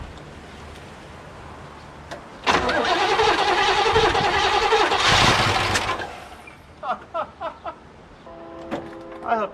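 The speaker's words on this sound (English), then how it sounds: "Let's give it a crank." A 1969 Chevrolet Camaro abandoned in a back yard for 18 years cranks loudly for a few seconds, sputters, then fires briefly, followed by several short mechanical clunks and clicks up close.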